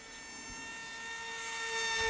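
An Eachine Mini Wing Dragon 540mm 4-channel 6-axis gyro trainer glider on its maiden flight on a windy day gives off a steady, thin electric-motor whine that grows gradually louder, with no talking.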